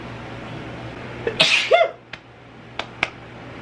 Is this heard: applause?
no